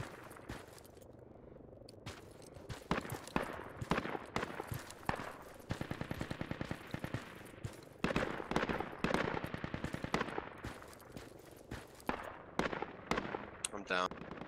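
Dense bursts of automatic gunfire and scattered single shots crackle through a city firefight in the military shooter Project Reality, rattling fast and loud in clusters, with voices talking between them.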